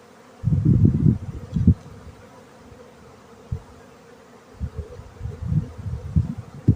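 Low droning buzz of honey bees in an open hive rising and falling in bursts, with quieter gaps between, close by and moderately loud.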